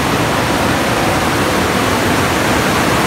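Rushing river rapids (a sula) on the Suriname River roar as a loud, steady broadband wash of water, with no voices.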